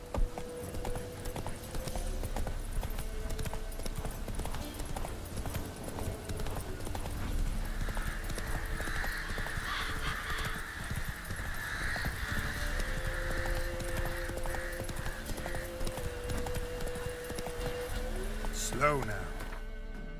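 Geralt's horse Roach galloping in The Witcher 3, a rapid rolling run of hoofbeats under music and ambient game sound, with a short sharp call near the end.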